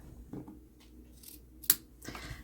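Scissors rough-cut journal insert paper in a quiet room, with a few soft, scattered snips and one sharper cut.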